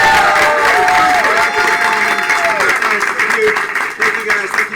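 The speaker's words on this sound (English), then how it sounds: "we just want to give these guys another round of applause" A studio audience gives a loud, dense round of applause with some cheering, steady at first and then thinning out toward the end, while a voice talks over it.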